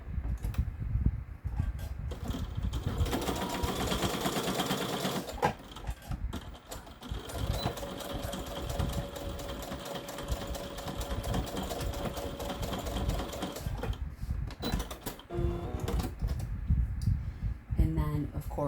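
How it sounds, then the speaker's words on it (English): A sewing machine stitches a two-tone fabric scrunchie, running in close, rapid mechanical bursts with a long steady run in the middle and brief quieter pauses between passes. "Last time at the machine for this one, and we're going to just do"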